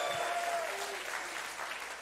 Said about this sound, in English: Give the Lord a great big hand clap